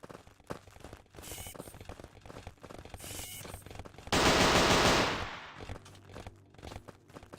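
Burst of rapid automatic gunfire from the video game Safe Not Safe, a loud dense roar lasting about a second in the middle, with quieter game noise and clatter before and after.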